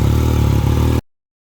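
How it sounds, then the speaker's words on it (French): A Yamaha MT-09 motorcycle engine idles steadily while warming up during a 20,000 km service, with an even, throbbing putter, close and loud, then cuts off abruptly into silence. "Il va falloir laisser chauffer la moto maintenant."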